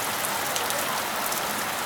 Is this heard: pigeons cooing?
no